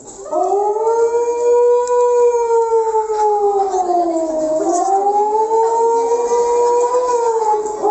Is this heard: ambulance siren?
yes